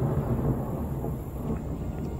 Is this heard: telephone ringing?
no